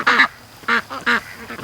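Loud, close honking quacks from ducks and geese in a pen, three harsh calls in quick succession followed by a softer one, with no talk.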